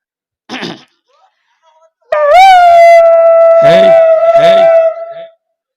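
A man imitates a dog: a short yelp, a pause, then a long loud drawn-out howl that wavers and breaks into sobbing whimpers before cutting off.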